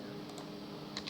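Faint clicks of typing on a computer keyboard while writing Python code, a few light keystrokes spread sparsely over a quiet background with no talking.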